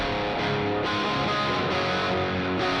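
Dense, saturated shoegaze electric guitar chords through a drive pedal with heavy overdrive, sustained and loud, with a few changes in the strumming.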